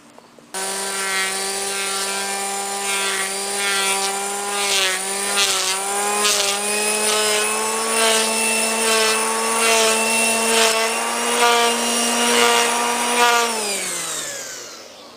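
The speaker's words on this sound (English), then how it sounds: "I just turned the trimmer upside down and made a clean cut" A string trimmer held upside down edges a lawn, its small engine giving a loud, steady, high whine that wavers slightly as it cuts along the grass edge, then winds down and stops near the end.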